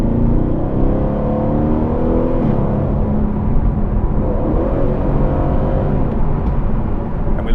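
A car driving fast on an open road, its engine under hard throttle with a steady, loud, close roar and rumble and no break in the sound.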